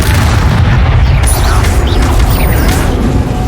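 Incendio fire spell cast in Hogwarts Legacy during a fight with goblins, a loud dense roaring blast of fiery bursts and booms that fills the whole moment without pause.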